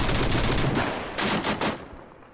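Rifle gunfire in Arma 3, a rapid burst of sharp shots followed by a short second volley, close and loud, ending in a fading echo.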